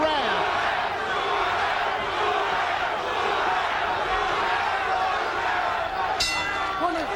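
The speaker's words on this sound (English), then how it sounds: "Crowd comes alive once more with a chant" Arena crowd at the 1983 Hagler versus Duran boxing fight roaring steadily throughout, a dense sustained wall of cheering and chanting voices, with a brief sharp burst near the end.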